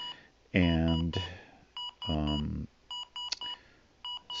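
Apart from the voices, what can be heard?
IBM ThinkPad R31 laptop repeating POST error beep codes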